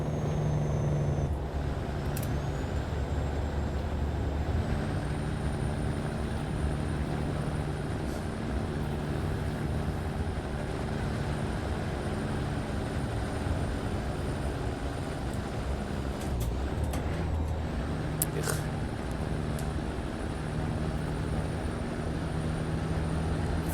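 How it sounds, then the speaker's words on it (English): A semi truck rumbles through a downhill turn on Alaska's Dalton Highway with its Caterpillar engine brake engaged, a steady low droning roar held close and loud throughout, with no talk over it. "Unless I put the engine brake on."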